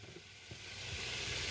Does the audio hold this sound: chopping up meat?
yes